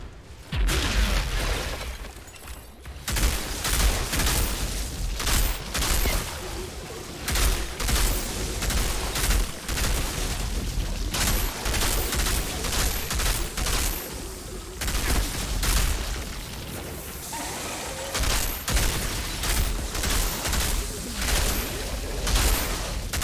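Sustained gunfire from the video game Outriders, with dense rapid shots and bursts running throughout alongside impacts and shattering sounds, loud and continuous.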